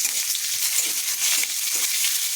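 Onions frying in hot oil with curry leaves, a dense continuous close-up sizzle with bright crackling hiss and faint stirring underneath, no talking.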